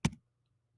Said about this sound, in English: And then hit the right key on your keyboard.